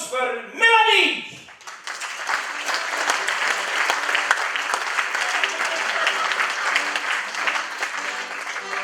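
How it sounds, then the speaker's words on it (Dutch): After a brief animated vocal outburst, an audience at a carnival ventriloquist show breaks into lively applause, a bright, dense patter of many hands continuing steadily to the end. "Dames en heren, een applaus voor Melanie!"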